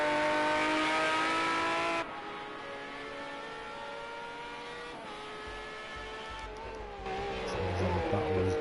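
Engine of a Hyundai Coupe race car in the Project Cars 2 racing game, a steady loud high-pitched drone that drops in pitch, then revs up again near the end, with commentary running over it.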